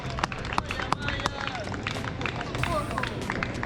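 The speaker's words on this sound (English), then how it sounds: "So I'm going to show you the running and then people cheering." Marathon runners pounding past on the square at Rossio in Lisbon, with quick footsteps, scattered claps and the murmur and cheers of spectators throughout, plus some nearby talk.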